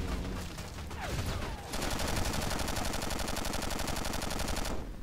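Rapid machine gun fire rattles in the video game Battlefield Heroes, a dense, loud, continuous burst of rounds layered over other in-game gunfire and noise, with no talking.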